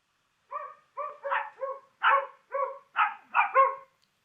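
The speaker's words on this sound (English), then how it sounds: "these are 2 dogs that are barking at the same time" Two dogs bark over each other in a clean, close recording, about nine sharp overlapping barks in a steady rhythm with no other sound.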